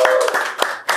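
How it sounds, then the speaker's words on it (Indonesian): Scattered clapping from a small audience at a stand-up comedy talk show, a few uneven bursts of hands with brief gaps between them, fairly close and loud. "Tepuk tangan dong, Bang Awe dong."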